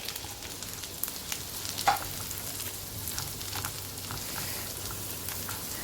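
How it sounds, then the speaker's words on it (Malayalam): Onions and garlic fry in a pan with a soft, steady sizzle, a few faint stirring clinks and scrapes rising now and then, quiet and close with no voices. "അപ്പോൾ നമുക്കിതിലോട്ട് സബോള ചേർത്ത് കൊടുക്കാം."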